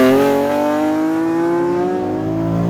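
S54-powered BMW E30 engine revving hard under acceleration at high RPM, a loud steady rising howl heard from inside the car.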